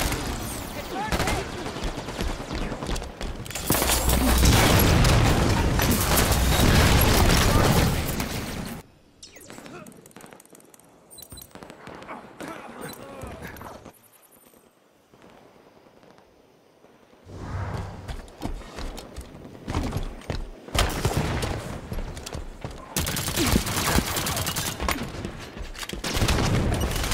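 Gunfire in the Halo 5 Warzone video game, with loud sustained bursts of automatic fire and explosions at the start and end, a quieter lull between them.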